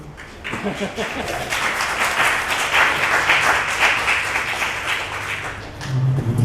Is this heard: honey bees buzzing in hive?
no